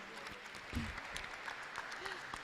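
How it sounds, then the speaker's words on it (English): Audience applause welcoming a U.S. Under Secretary of Commerce onto the stage at a U.S.–Nigeria advisory council leaders event, a steady wash of clapping from a seated crowd heard at moderate distance throughout. "Ladies and gentlemen, please, a round of applause for Arun"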